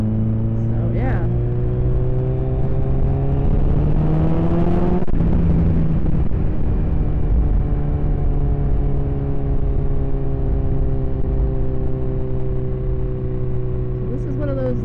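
A motorcycle ridden on the road around Las Vegas, its engine droning loud and steady from close by and rising in pitch as it accelerates through the gears, with constant wind rush, a shift midway and a speaking voice under the noise.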